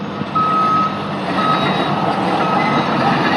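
Construction machinery on a city street with graffiti, its reversing alarm beeping steadily through a continuous loud rumble of engines and traffic, close and dominant with no talking.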